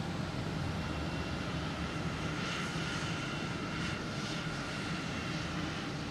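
A JetBlue Embraer E190 jet arriving at Boston Logan Airport, its engine roar a steady broad rumble held throughout, loud and continuous with no voices.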